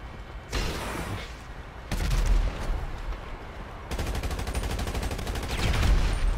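Video game gunfire: rapid bursts of automatic shots, close and loud, in several separate volleys with short gaps between them.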